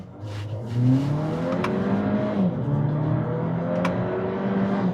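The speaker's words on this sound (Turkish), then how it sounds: "Şöyle manuelle alıp bir gaz tepkisine bakayım şurada." An MG7 car engine revs in manual mode during a throttle response test, rising and falling through several pulls, heard from inside the car with no talk.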